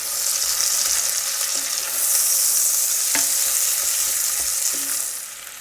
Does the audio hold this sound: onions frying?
yes